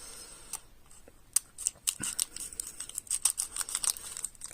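Crinkly plastic wrappers on sealed Magic the Gathering booster packs are torn and crumpled close up, with quick bursts of crackling and ripping that grow busier toward the end, quiet and with no talk.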